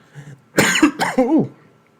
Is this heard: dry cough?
yes